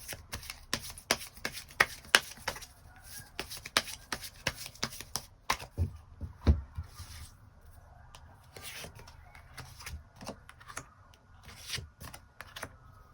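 Tarot cards shuffled and drawn by hand, a steady run of crisp riffling snaps and slaps, close and fairly loud, easing into quieter card handling toward the end with no talking.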